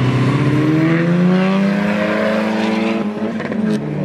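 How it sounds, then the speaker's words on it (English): A Honda engine revs hard on a race track, its loud rising harmonic whine climbing steadily through the gears before a brief dip and crackle near the end, with other cars' engine noise blending in close by. "Oh, wouldn't be a Honda without some rev bashing."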